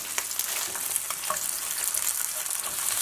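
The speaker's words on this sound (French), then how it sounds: "On fait bien dorer la première surface." Lamb chops with their fat sizzle and fry steadily in a hot frying pan, a dense continuous crackle close up with no voices.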